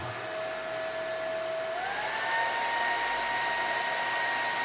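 A hair dryer, used as a roughly 2 kW test load on an EASUN 3200VA 24V inverter, blows with a steady, close whir; its pitch steps up slightly partway through and holds there.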